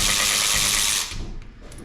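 A ratchet loosening old winch mounting bolts, a steady run of rapid mechanical clicking that stops abruptly, leaving a few faint metallic taps and handling noises.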